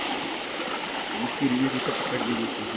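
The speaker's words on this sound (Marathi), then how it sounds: "असं पाण्यातून जावं लागते" Stream water rushes and swirls around someone wading through it at night while catching crabs, with a brief voice over the steady flow.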